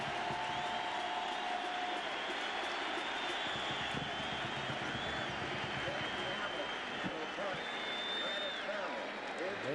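A West Virginia home stadium crowd of over 60,000 at a 1988 college football game against Maryland, applauding in the rain: a broad, steady roar of clapping and cheering from afar, with a commentator talking over it.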